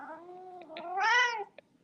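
A kitten gives a single drawn-out meow, rising and bending in pitch before trailing off, close by in a quiet room with no talking.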